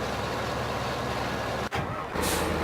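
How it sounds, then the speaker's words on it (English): A heavy, powerful tractor engine labours under load in modded Farming Simulator 2015, a loud continuous low drone that cuts out abruptly near the end and then picks back up. "it's a powerful tractor here, and he's struggling a little bit"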